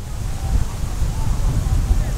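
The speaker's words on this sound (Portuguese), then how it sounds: "O vento tá muito, muito forte" Strong, gusting wind buffets the microphone at an outdoor kite festival in Americana, a steady low rumble that swells and surges without letup.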